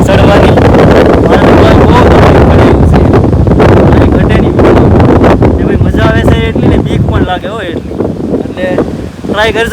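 Strong wind buffets the microphone in heavy, roaring gusts throughout at the top of a lighthouse, with a voice talking faintly underneath toward the end.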